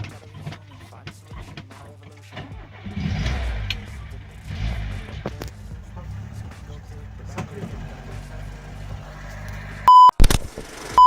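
A 1976 VAZ-21011 car engine starts and idles, rising in a rev as the car moves off, with a voice talking briefly and a few electronic beeps at the end.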